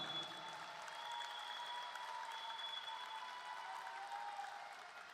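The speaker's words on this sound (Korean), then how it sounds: "뜨거운 박수를 부탁드립니다" Steady applause from an audience at a Democratic Party nomination event for South Jeolla, Gwangju and North Jeolla, a fairly faint, even wash of clapping that holds throughout without pause.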